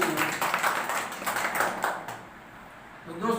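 An audience claps for Mahesh at a business training session, a brief burst of scattered hand claps with voices and room noise around it, fading out toward the end.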